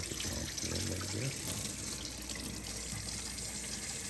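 Tap water runs steadily through a dishwasher silverware rack, a continuous close rush and patter of water that stays even throughout.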